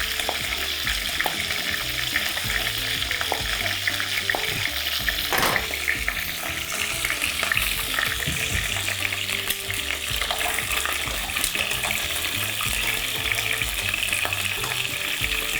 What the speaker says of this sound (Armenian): Թող տապակվեն բդիկները